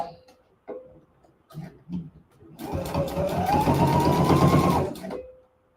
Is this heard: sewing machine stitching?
yes